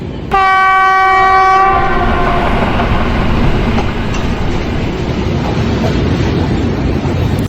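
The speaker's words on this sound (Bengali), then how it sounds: "ট্রেনটি ইসলামপুর স্টেশন থেকে দেওয়ানগঞ্জের উদ্দেশ্যে ছেড়ে দিল।" A train leaving Islampur station for Dewanganj on an old British-era line sounds a loud, steady horn blast of about a second and a half. A heavy, continuous rolling rumble follows as it pulls away nearby.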